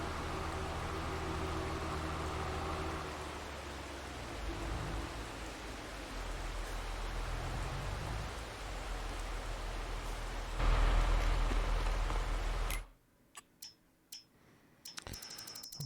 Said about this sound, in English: And it suddenly started raining.